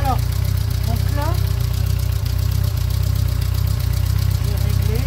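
A classic Renault car engine idles with ignition timing slightly too advanced, a steady, loud, close, rhythmic throb with a faint ticking pulse, while someone talks over it.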